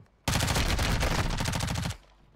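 Sustained burst of rapid automatic gunfire from a first-person shooter game, loud and dense for under two seconds before cutting off abruptly.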